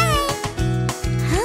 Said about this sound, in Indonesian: apa kau lihat kucing? Meow.